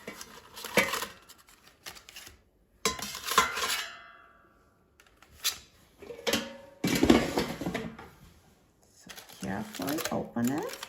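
Foil-wrapped salmon packets come out of an air fryer basket with a few sharp metallic clatters and crinkles of foil, separated by short quiet gaps, close by.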